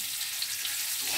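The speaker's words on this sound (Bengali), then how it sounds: "লাল করে আলুটা ভেজে নেব।" Potatoes seasoned with salt and turmeric frying in oil, a soft steady sizzle with a faint hiss, slightly brighter toward the end of the short stretch.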